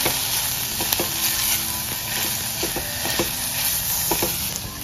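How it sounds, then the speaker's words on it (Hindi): Turmeric powder and curry leaves fry in hot oil for Goan potato bhaji, giving a steady, close sizzle with small crackles and pops throughout. "तो हळदी पीठ घालून मातशें आनी करीपात घालून मातशें हें केलां फ्राय"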